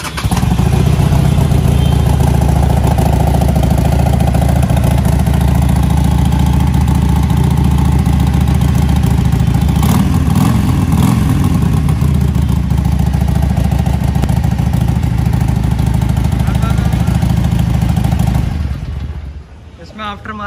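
A Benelli TNT 600 motorcycle fitted with an aftermarket exhaust and a K&N air filter, with 19,500 km on it, runs loud and close at a steady, throaty idle with a brief rev near the middle, then cuts off at the end.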